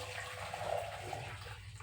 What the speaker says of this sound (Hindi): ये लिया हमने कढ़ैया और इस पानी को इस भगोनी में